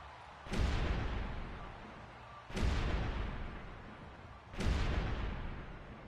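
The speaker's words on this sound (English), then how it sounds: "The cannons are loose, and we're not talking about Nick." Stadium cannons at the Buccaneers' ground fire after a touchdown in a football video game: three loud, booming blasts about two seconds apart, each with a long rumbling decay over steady crowd noise.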